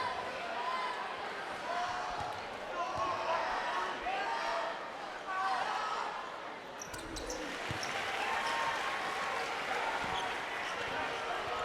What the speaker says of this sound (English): That cheer means Claron Hornbeach is coming back in.